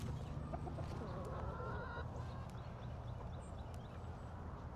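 Chickens and a rooster on a farm cluck softly and intermittently, faint and distant over a low, steady background rumble.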